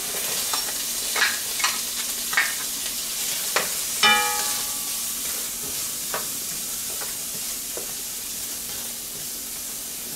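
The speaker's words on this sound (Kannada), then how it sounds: "ಈರುಳ್ಳಿನ ಒಂದು ಸ್ವಲ್ಪ ಫ್ರೈ ಮಾಡ್ಕೋಬೇಕು" Chopped onions sizzle steadily in a hot pan while being cooked down for a pizza sauce, with a continuous hiss broken by a handful of sharp spatula scrapes and clicks from stirring, close and clear with no talking.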